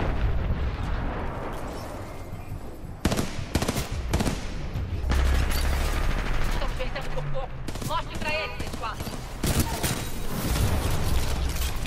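Gunfire in a Titanfall 2 multiplayer match: dense, rapid bursts of automatic fire and sharp shots mixed with heavy booms and explosions, continuous and loud throughout, with some talking underneath.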